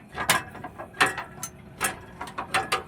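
Repeated sharp metallic ratchet clicks from a jack being pumped to lift a truck tire, about eight irregular strokes close up, with no talk over them.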